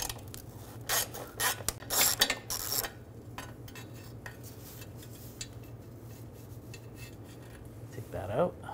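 Socket wrench backing out an 8mm bolt on the exhaust heat shield of a 2009-2010 BMW 535i xDrive 3.0L inline-six, heard as close rasping and metallic scraping bursts early on, then quieter faint handling noise with no talk.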